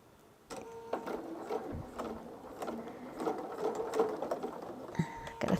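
A sewing machine stitches a thick seam on a Christmas quilt in short, uneven bursts of clattering needle action, fairly quiet and close, with small mechanical knocks between runs.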